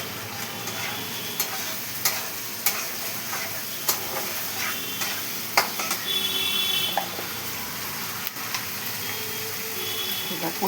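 A spice paste of chili, ginger, cumin and garam masala fries in a pan with a continuous loud sizzle and hiss, broken by occasional sharp clinks of stirring, with no talking.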